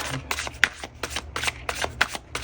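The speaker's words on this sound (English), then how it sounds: "I'm having such a hard time today with my shuffling." Tarot cards being shuffled by hand, a rapid run of papery riffles and flicks in quick uneven bursts, close up with a low hum underneath and no talking.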